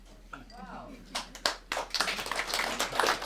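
Scattered hand claps from a stand-up comedy audience in Lviv, starting sparse and swelling into steady close applause under a man's speech.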